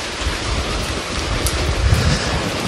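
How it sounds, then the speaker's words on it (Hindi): Heavy rain pouring down outdoors before dawn, a loud, continuous roaring hiss with deep rumbling gusts of wind buffeting close by. "तेज़ बारिश गिर रही है तो दिख नहीं रहा आगे कुछ।"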